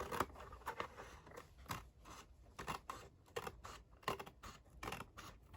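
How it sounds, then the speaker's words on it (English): Scissors snipping excess cardboard off a handmade slim-line card box, a quiet series of short crisp cuts in an irregular rhythm, close by with no talk. "I'll go in and I'll cut a little bit off."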